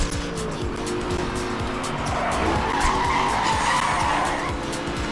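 Racing car in Need for Speed: Hot Pursuit Remastered skidding with a steady engine roar and sustained tire squeal, loud and continuous throughout, with no talking.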